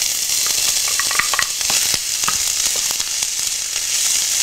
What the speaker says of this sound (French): je verse l'huile d'olive au fond de ma casserole comme ceci. Je verse l'oignon préalablement émincé.